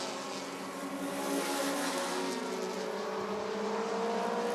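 Short track race cars roar along the backstretch at Rockford Speedway in a sustained, steady engine drone that swells slightly as the pack holds its pace, moderately distant with no voices.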